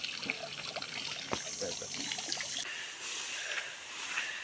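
Steady hiss of water spraying out under pressure from a garden sprinkler with slightly leaking washers, continuous and fairly close, with a faint trickle and a few small knocks.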